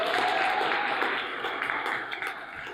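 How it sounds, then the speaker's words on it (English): Audience applause at a talk series event on trans feminisms, a steady wash of clapping that slowly fades, with faint voices underneath. "round of applause"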